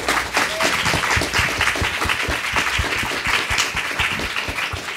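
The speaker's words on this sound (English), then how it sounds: "I think we actually should give them another round of applause." Sustained round of applause from an audience at an Art + Feminism talk at MoMA, dense and steady clapping throughout at a fairly loud, even level.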